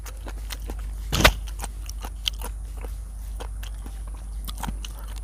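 Crunchy spicy squid salad being chewed close up, with one loud crisp bite followed by a steady series of soft crunching clicks and no talking.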